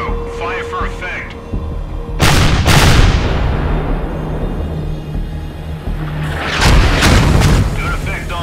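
Artillery explosions in a miniature backyard army-men battle, with two heavy booms a few seconds apart, each one a loud blast that rumbles and decays slowly.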